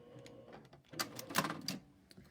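A sewing machine stitches during a sew-along, giving a short, close mechanical whir and clatter that swells to a louder burst in the middle before fading.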